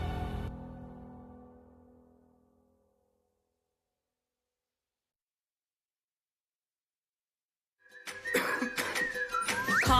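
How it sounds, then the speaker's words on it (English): A single cough fades out at the start, followed by several seconds of silence, then a burst of coughing and throat clearing near the end. "Coughing and throat feeling sore?"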